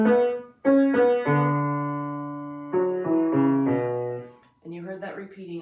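Piano melody from a lullaby, a short repeating phrase of single notes and a few sustained held tones, played close and clearly with no talking.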